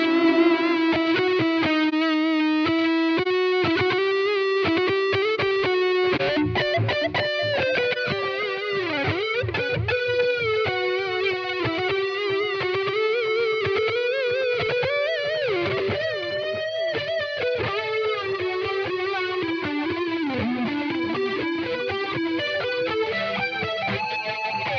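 Distorted electric guitar through a Blackstar amp plugin plays a continuous run of notes bathed in wash and ambience, the reverb smearing each note into a spacious sustained tail.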